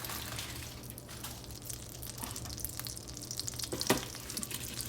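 Butter sizzles quietly in hot oil in a pan while cooking seafood rice, a soft crackling fry with scattered pops and one sharper spatter near the end.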